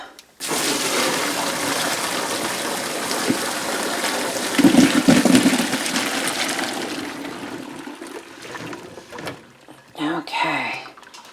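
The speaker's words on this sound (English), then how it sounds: "going to strain the water back into this stock pot" Vegetable cooking water from turnips and carrots pours steadily through a strainer into a stock pot, a continuous splashing gush that lasts several seconds, with a louder surge midway, then fades to a few trickles.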